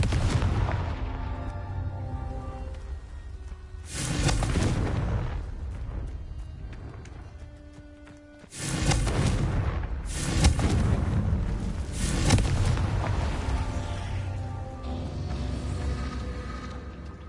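Confringo blasting spell bursts in Hogwarts Legacy, several heavy booming explosions with long rumbling tails amid game music and effects, loud and repeated over the whole stretch.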